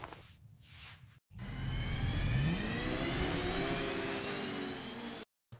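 An AI-generated car revving up layered with a jet engine roar: a short low burst, a cut to silence, then a loud sustained mid-pitched whooshing drone with a rising whine that holds steadily before cutting off abruptly.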